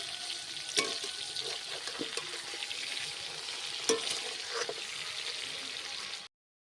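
Fish sizzles steadily in hot oil in a pan while being flipped, with a constant frying hiss broken by a few sharp scraping clicks of the utensil, before the sound cuts off abruptly.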